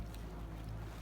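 Sea waves washing around a small boat out in the Mona Passage west of Puerto Rico, a quiet low rumbling wash with steady wind noise on the microphone.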